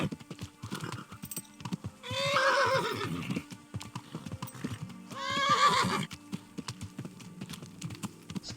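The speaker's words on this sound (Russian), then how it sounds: "Так, внимание, лошадь не должна нас кинуть," A horse in the medieval video game Kingdom Come: Deliverance clip-clops steadily and lets out two loud, drawn-out whinnies, its hoofbeats continuing between and after the neighs.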